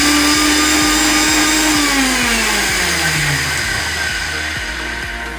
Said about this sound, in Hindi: पहले हम इसको अच्छे से ग्राइंड कर लेते हैं।